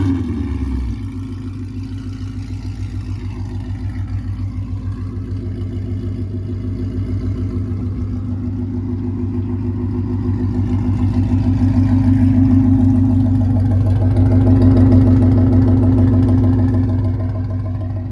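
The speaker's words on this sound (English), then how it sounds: "Let me give you guys a little warm start to so you guys can see how it sounds" Ford Mustang GT with an MBRP Race series exhaust fires up on a warm start, then settles into a loud, deep, throbbing idle with steady low pulses, swelling slightly in the later seconds, up close with no talking.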